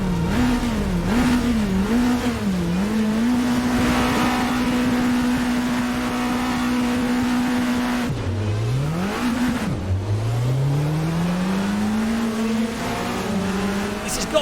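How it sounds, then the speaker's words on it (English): A racing car engine in a sim racing game, the Toyama from an RSS mod, holds a loud high rev. It wavers through gear changes, then drops and climbs again through the gears over several seconds. "This has got to be one of the nicest sounding cars in all of sim racing."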